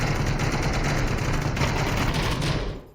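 Rapid gunfire rattles continuously in the Onward VR shooter during a competitive match, a dense, loud volley of shots that cuts off abruptly at the end.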